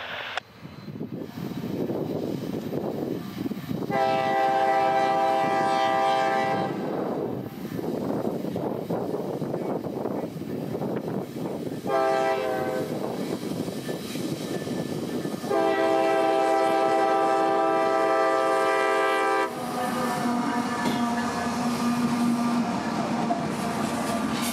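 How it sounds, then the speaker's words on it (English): A C&O 1869 locomotive leads a coal train past on a banked curve, its engine rumbling steadily while the horn sounds in several loud, sustained blasts, including a long final blast and a lower tone as the train passes close by. "the train rounded the banked curve here right at golden hour"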